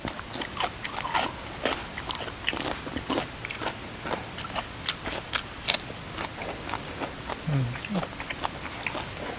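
Close-up crunchy chewing of squid, a steady run of crisp bites and crackles over a noisy background with the hiss of falling rain.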